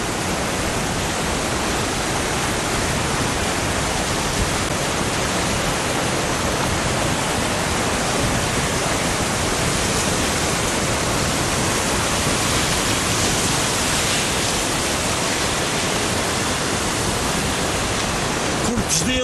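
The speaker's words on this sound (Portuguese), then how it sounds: "Vejam o caudal da água em que vai passando aqui na ribeira." A storm-swollen stream beside a road at Porto Judeu on Terceira in the Azores rushes loudly and steadily in a dense, unbroken roar throughout.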